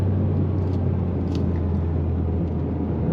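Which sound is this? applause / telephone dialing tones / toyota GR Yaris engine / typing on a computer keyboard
toyota GR Yaris engine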